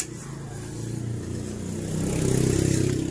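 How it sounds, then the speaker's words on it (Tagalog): A motorized tricycle engine drones past outside a home kitchen, its mid-pitched putter swelling louder toward the end as it nears, steady and alone with no talk. "Maingay yung tricycle."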